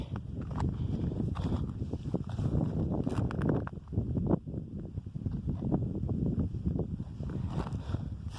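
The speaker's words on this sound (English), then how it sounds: "It's very windy out here today" Steady low rumbling wind buffeting a microphone on a treeless mountainside, continuous and loud throughout, with a brief dip in the middle.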